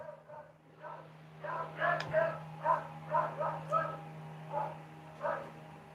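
Several dogs bark and yip in a rhythmic run of about ten barks at moderate distance, under a steady low hum, with a person talking nearby.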